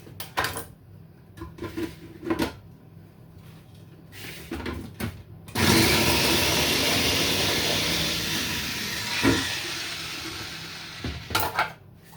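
Carrots being chopped in a food processor, preceded by several clattering knocks and clicks as the machine is set up, then a loud whirring burst of blade chopping for several seconds, followed by more handling knocks.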